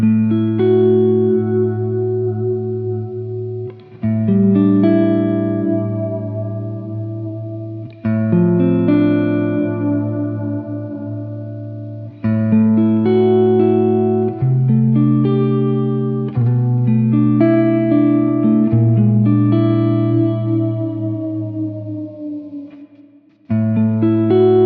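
An electric guitar strums sustained chords through a Gamechanger Audio Bigsby vibrato pedal's wavering effect and lingering reverb, each chord ringing out before the next begins.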